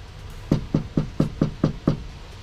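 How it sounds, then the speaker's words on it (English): Seven firm knocks on the door of a mobile home during a delivery, evenly spaced and close, with nothing else heard between them. "I'm knocking on the door."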